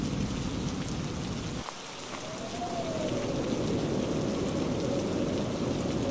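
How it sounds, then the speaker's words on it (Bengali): Heavy rain pouring with gusting wind in a cartoon storm scene, a dense, loud, continuous roar that briefly dips before surging back, with no voices. "দেখতে পাচ্ছিস না বৃষ্টি পড়ছে, কেমন জোরে বাতাস বইছে রে।"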